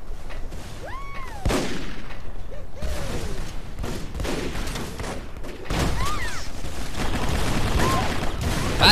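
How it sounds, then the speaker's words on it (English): Rocket launcher firing in the Microvolts video game, several booming launches and blasts spread across a noisy combat scene with whooshing effects and mechanical clicks. "Stupid rocket launcher."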